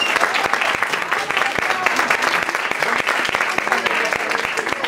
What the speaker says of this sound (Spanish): ¡Aplauso para la maestra Basanta!